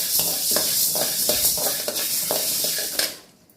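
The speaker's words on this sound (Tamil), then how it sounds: "அதனால் மீடியம் ஃப்ளேமில் வச்சு நல்லா வறுத்து எடுத்துக்கோங்க." Ingredients being fried in ghee in a pan over a medium flame, a steady bright sizzle broken by repeated scraping stirs of a spoon, fading out at the close.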